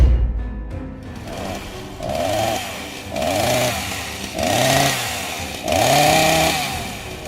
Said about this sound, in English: The sound of that chainsaw was deafening.